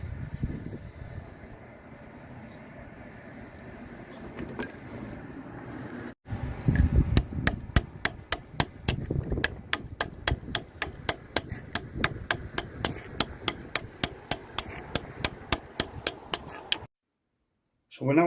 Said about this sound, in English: So you put your chisel on the corner but work into the stone rather than away from the